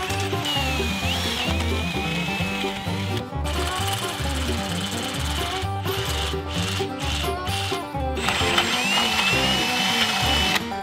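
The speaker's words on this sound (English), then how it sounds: "start drilling out some of the knuckles that need to be drilled out so that they can accept larger bolts" A drill bores out steel axle knuckles to accept larger bolts, a loud continuous grinding whir with rapid chattering pulses and short pauses between bursts.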